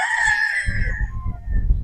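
A battle stag rooster crows loudly and close by, one long drawn-out call that fades as low farmyard rumbling and shuffling noises continue underneath.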